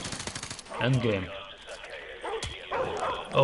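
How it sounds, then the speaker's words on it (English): A dog barks and yips in Call of Duty: Modern Warfare 2 Campaign Remastered, a few sharp barks amid game sound effects and gunfire, with a person talking over the action. "They sent a dog after us."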